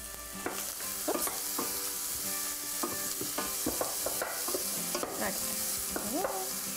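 Onion and garlic cook in oil in a pan while a utensil stirs them, producing a continuous sizzle broken by repeated scraping and clinking strokes at an irregular pace, with no voices.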